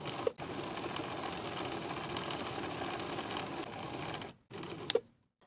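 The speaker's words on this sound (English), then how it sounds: "Sew the welts to the pocket with a 1/4 inch seam allowance." A sewing machine runs steadily, stitching welts to a knit jacket pocket, with a brief pause early on and a stop near the end before a small clack.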